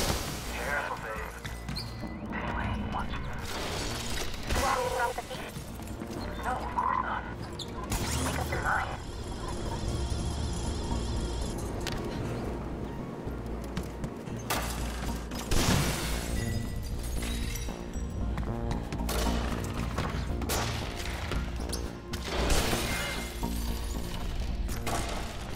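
Glass repeatedly shatters and breaks in the video game Mirror's Edge Catalyst, with sharp crashes and rattling debris recurring across the stretch alongside mechanical clatter, while someone talks over much of it.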